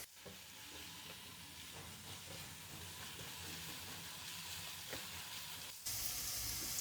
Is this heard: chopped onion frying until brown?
yes